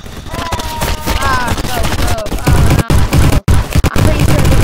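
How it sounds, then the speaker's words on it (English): Gunfire in the Roblox shooter Bad Business bursts in loud, fast automatic volleys, close and dense, with game sound effects and brief pauses between strings of shots. "why did I shoot my teammate?"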